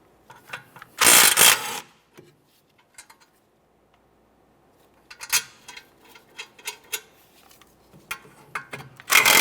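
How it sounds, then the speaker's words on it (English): Caliper bracket mounting bolts, 14mm, being removed from the rear brakes of a 2015-2019 Subaru Outback: a loud burst of ratcheting at the start, then scattered metallic ticks and clicks of tools and bolts, close up. "you're going to find two 14mm mounting bolts. Go ahead and remove the pair"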